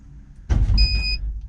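A small Chang Li electric car shifts into reverse and starts rolling: a sudden low mechanical thud and whirring burst, with a thin, steady high electronic tone sounding briefly over it, close up and with no talking.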